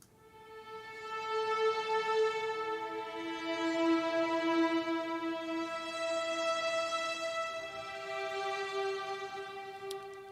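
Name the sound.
Arturia Augmented swell synth sound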